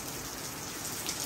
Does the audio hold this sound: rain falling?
yes